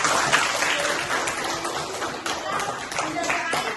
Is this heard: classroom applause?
yes